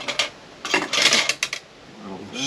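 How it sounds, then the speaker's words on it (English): A metal lid is set onto a cooking pot of potato soup with sausage, giving a cluster of clattering clinks and scrapes and then settling, close and fairly loud. "A lid on it."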